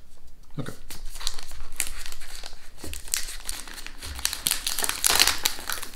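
Crinkling and crumpling of a chocolate bar's plastic wrapper as it is torn open and handled, close and continuous with sharper crackles near the end; a voice speaks faintly in the background.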